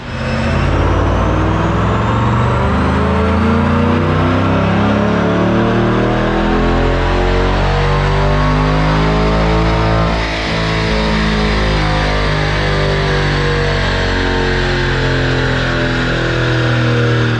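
A C8 Corvette strapped to a chassis dyno roars through a sustained full-throttle pull, its engine note climbing steadily in pitch for many seconds, loud and close, with a brief dip midway before the sweep continues.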